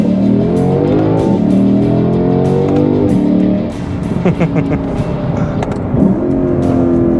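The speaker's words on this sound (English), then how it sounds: "This engine just sounds brutal, and it's an NA V8" A loud, close naturally aspirated V8 engine in a 2025 Lexus IS500 F Sport accelerates hard, its pitch climbing, then briefly drops at a gear shift before revving up again.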